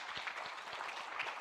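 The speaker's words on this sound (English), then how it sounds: "Can we clap for UNEB Uganda?" Quiet audience applause at an international curriculum development conference, a steady wash of many hands clapping from across the room, faint and even throughout.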